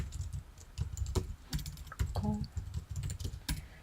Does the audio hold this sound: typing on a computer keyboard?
yes